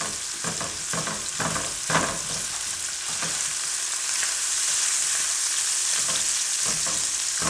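Sausage meat frying in a pan for stuffed spaghetti squash, a steady bright sizzle with scraping stirs and spatula taps throughout, close and continuous with no talking.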